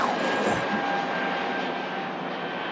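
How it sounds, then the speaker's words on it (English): Airbus jet with LEAP-1A engines spooling up at Manchester Airport, a steady broadband roar with a faint whine holding across the whole stretch, loud and continuous with no talk over it. "Mate, that noise you just heard then in the engines, that was him"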